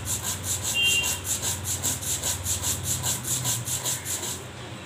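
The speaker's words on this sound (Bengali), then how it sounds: "এবার বেটে নেব সর্ষে আর পোস্তটা।" Mustard and poppy seeds ground with a little water into paste on a grinding stone, a steady rhythmic scraping and rubbing, close and repeated in even back-and-forth strokes.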